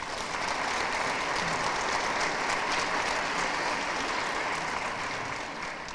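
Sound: applause at hotel project launch ceremony

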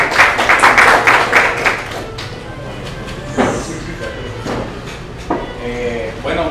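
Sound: audience applause for the speaker

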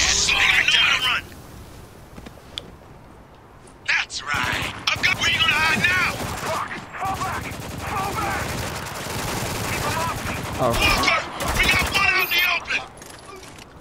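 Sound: gunfire in Spec Ops: The Line video game

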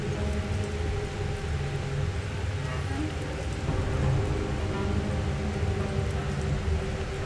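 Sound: rain in the video game Deus Ex Mankind Divided

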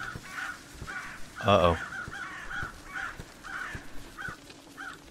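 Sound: startled crows cawing in video game

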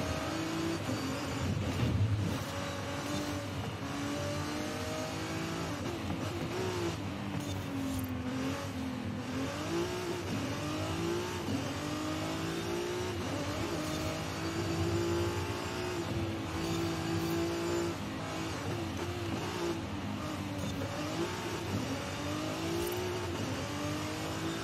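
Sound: 2014 Ferrari California T engine accelerating, video game

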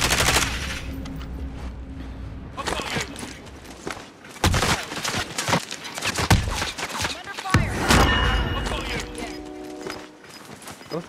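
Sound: gunfire in the video game Call of Duty: Warzone

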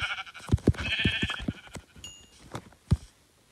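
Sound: sheep bleating in Minecraft video game

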